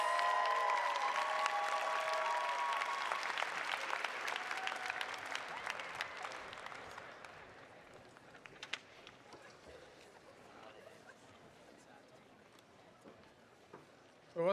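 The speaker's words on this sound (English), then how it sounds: "Round of applause to everybody." Graduates are applauded at the 2024 Heinz College hooding and diploma ceremony: a large crowd claps loudly at first, then the applause thins and fades away to scattered claps and murmurs.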